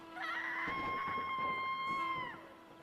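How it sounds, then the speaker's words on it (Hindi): A horrible scream sound effect, heard from inside an old lighthouse in an animated Hindi horror story, rises as one sustained, shrill, wavering cry lasting about two seconds over a low steady drone. "उसी पल लाइट हाउस के अंदर से एक भयानक चीख सुनाई दी"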